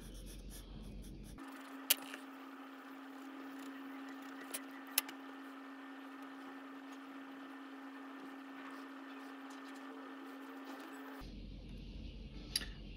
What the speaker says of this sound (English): I'm using the same pencil, but observe how I'm using and handling the angle of my pencil